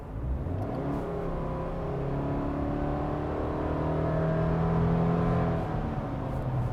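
A 2021 Subaru Crosstrek Sport's 2.5-liter four-cylinder boxer engine with a CVT, floored from a slow pace, rising in a steady drone that climbs in pitch and swells louder before easing off near the end, without talk.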